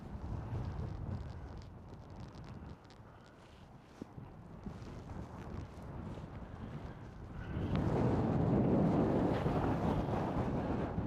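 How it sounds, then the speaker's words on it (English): Steady wind buffeting a microphone outdoors, a low roaring rumble that swells louder toward the end. "Wow, it's windy"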